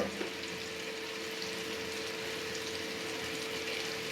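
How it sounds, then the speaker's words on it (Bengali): Food frying together in a pan over a low gas flame, a steady soft sizzle and hiss that runs evenly throughout with no talk. "এভাবে সবটি একসাথে ভেজে নেবেন। গ্যাসটা একটু অল্প আছে ভাজবেন"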